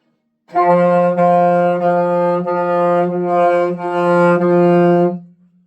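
A sustained saxophone note, tongued on the syllable D into a steady series of repeated articulations, bright and close, lasting about five seconds with no talking.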